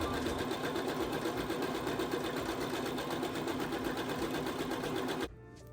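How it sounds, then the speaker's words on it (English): A Brother CS5055 PRW sewing machine stitches stretchy fabric in a steady, loud, rapid mechanical whir that runs continuously, then stops abruptly near the end, leaving quiet room tone. "now I'm showing you how the machine reacts to stretchy fabrics"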